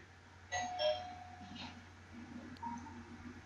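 A doorbell-style ding-dong chime from the Danganronpa: Trigger Happy Havoc video game rings out in two bright tones over a faint steady background hum.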